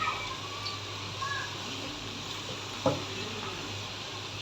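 Chicken fries with salt and whole cumin seeds in a pan, giving a steady soft sizzle close by and one brief clatter of stirring partway through.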